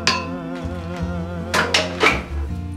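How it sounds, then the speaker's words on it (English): A spoon scooping pickled radish and spices into a glass jar, with a few clinks and knocks against the glass and a cluster of scraping taps in the later half. "So I'm just going to scoop so that I have an even distribution of the spices in the jar."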